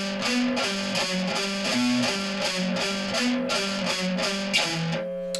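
A distorted electric guitar plays the Papa Roach 'Last Resort' riff slowly, with sustained, repeating chugging notes that ring out clearly on their own before stopping abruptly.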